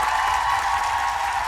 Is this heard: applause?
yes